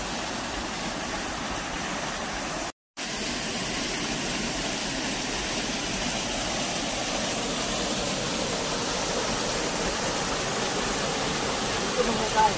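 Strong water rushes at a river bathing spot, a dense, loud and continuous roar close by, broken only by one very short dropout.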